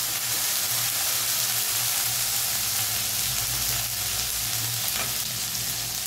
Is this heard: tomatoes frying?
yes